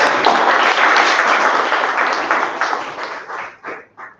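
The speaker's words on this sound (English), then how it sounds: "Can we have a huge round of applause?" Audience applause at a meeting, dense clapping from a roomful of people that starts loud and gradually thins out, ending in a few scattered claps.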